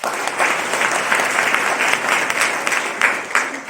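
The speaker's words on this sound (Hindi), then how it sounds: "आप सभी लोग एक बार जोरदार ताली उनके लिए बजाएं" Steady, loud audience applause from a seated crowd at a talk, dense clapping sustained for several seconds without pause, no talk over it.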